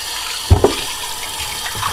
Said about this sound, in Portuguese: Deixa eu bater uma água aqui pra ficar mais...